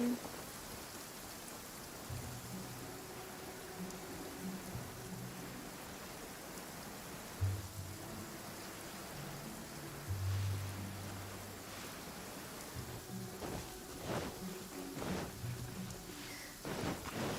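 Steady rainfall in the game Genshin Impact hisses continuously, with low rumbles and soft game effects layered beneath.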